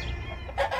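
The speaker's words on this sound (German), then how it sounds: "Das ist ein spezielles Huhn. Das ist ein magisches Huhn." A hen clucks in a couple of short, close bursts over a low background rumble.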